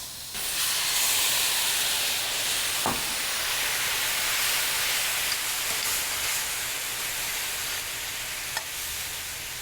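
Fruit juices hit a hot pan of caramelized oranges and burst into a loud, sustained sizzle and steamy hiss that fills the whole stretch, with a couple of faint clinks and no talking.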